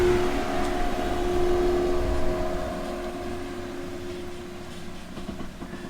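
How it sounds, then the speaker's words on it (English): A noisy car passes behind a swamp viewing platform in a national park, a low rumbling engine drone that fades slowly from moderately loud to quieter as it moves away, with a steady tonal whine. "and a noisy car behind me."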